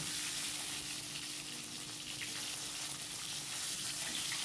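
Eggs rubbed with salt and turmeric fry in a pan with a soft, steady sizzle that stays even throughout, quiet and close, with no one speaking.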